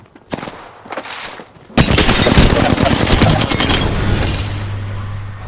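Enemy gunfire in Apex Legends: after a few sharp separate shots, a loud, sustained burst of rapid automatic fire rattles close by for several seconds, with no talk over it.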